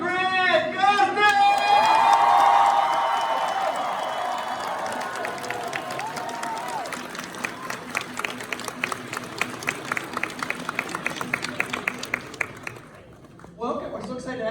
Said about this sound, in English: Everybody, please give a huge round of applause for Gustin!